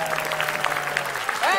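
Students in a studio audience at a comedy quiz show burst into brief applause, a short wash of clapping mixed with voices.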